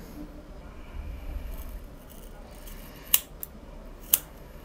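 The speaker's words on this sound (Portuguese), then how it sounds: "Eu vou cortar um pouquinho mais do que eu cortei do outro." Scissors snip curly hair at home in two or three sharp, brief clicks against a quiet room background.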